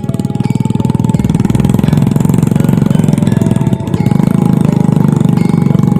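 A friend's motorcycle labours up a steep, rocky uphill road near an abandoned Dutch house in a deserted village, its engine a steady, loud, close throbbing drone that holds throughout with no talk over it.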